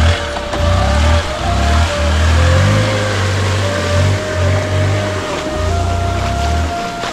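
Off-road vehicle engine revving loud and close in a flooded jungle, a steady low roar that surges and dips as it works through water, with splashing wash behind it.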